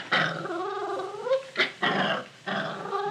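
A dog growls and snarls at being fitted with a new collar and leash, a close, continuous rumbling growl rising into sharper snarls and yips, heard alone in a 1950s radio drama.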